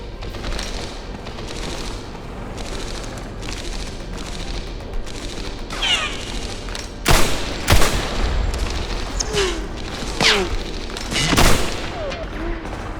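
Bursts of gunfire in the World War II shooter game Medal of Honor: Airborne, several sharp loud shots and rapid volleys over a steady background rumble, with a voice talking faintly at times.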